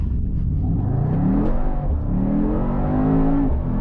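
A Mercedes-AMG GT 63 S E Performance hybrid launches hard with brief wheel spin, its engine roaring close and loud as it climbs steadily through a rising, strained pitch before easing near the end.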